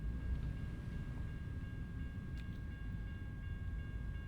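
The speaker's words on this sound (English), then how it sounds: "we've got the train, so we'll swing wide, and then we'll head over once the train gets by" A train rolls past at a crossing in American Truck Simulator, a steady low rumble and rattle of rail cars at moderate distance, fairly quiet and continuous with no talking.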